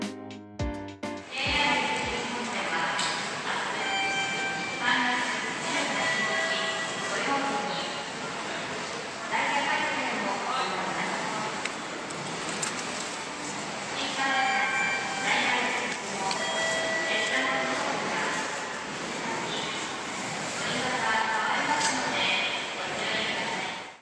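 A JR 223 series Marine Liner train bound for Takamatsu pulls into Okayama Station, a long, steady rumble with squealing brake and wheel tones and station announcements playing over it.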